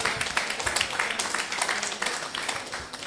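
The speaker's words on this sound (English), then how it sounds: "I think I deserve a round of applause." An event audience claps in fairly quiet, scattered applause that carries on steadily throughout with no speech over it.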